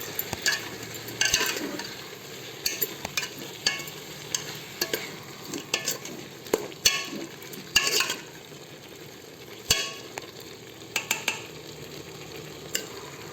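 A spoon scrapes and stirs a tomato mixture in a pan with turmeric, salt and coriander, irregular knocks and scrapes over a low simmering sizzle, close and alone.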